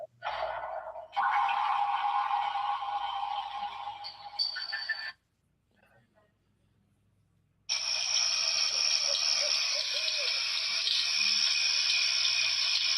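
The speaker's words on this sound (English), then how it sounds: "A river in the woods." Night ambience of a river flowing through woods in an online video game: a steady broadband rush of running water, loud and continuous, cutting out for a few seconds midway before resuming just as strongly.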